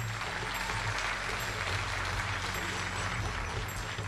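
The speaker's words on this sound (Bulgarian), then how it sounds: "Аплодисменти!" Audience applause at a Bulgarian folk festival on the Black Sea coast, a broad continuous wash of clapping, moderately distant, with a low hum underneath.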